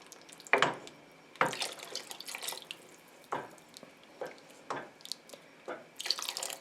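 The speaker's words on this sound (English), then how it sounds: "I'm going to add some more water" Water is poured into a pot of Hungarian beef goulash soup in a few separate splashy bursts, each one short and close, with quiet pauses between the pours.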